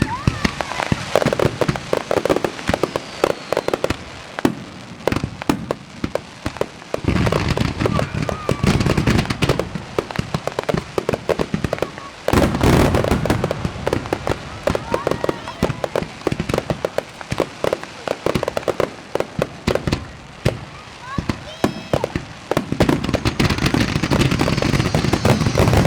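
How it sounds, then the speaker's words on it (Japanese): A fireworks display at the Izu Taga sea fireworks festival in 2016 keeps up a continuous, loud barrage of booming and crackling bursts, with dense rapid explosions and a booming echo across the water. "皆様と楽しんでまいりました花火大会もいよいよ最後のステージとなります。"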